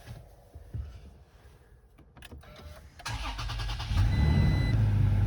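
A 2020 Toyota Tacoma pickup with a desk riser box in its bed and low mileage starts up: faint clicks and rattles, then the starter cranks and the engine catches, settling into a steady, close idle.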